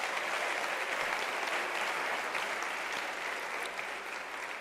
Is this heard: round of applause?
yes